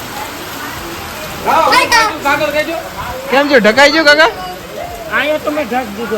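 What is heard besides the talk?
heavy rain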